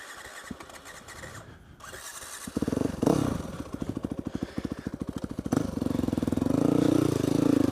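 A dirt bike engine in the woods is kicked over after a brief quiet stretch, catches with a loud rapid chatter, and settles into a close, steady idle with slight revving.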